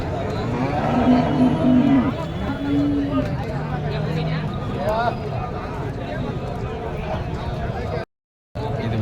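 Cows moo repeatedly at the crowded Karimangalam cattle market in Tamil Nadu, long lowing calls rising over busy crowd chatter and market bustle, with people talking nearby throughout.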